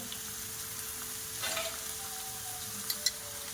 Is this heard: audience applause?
no